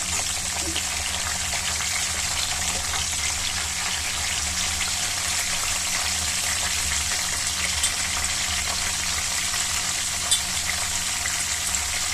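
Vegetables fry in a pan on a gas stove with a steady, even hiss and crackle that holds unbroken at a moderate level, with no voices over it.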